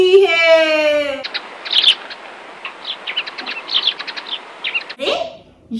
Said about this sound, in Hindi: प्यारी सी चिड़िया आ गई।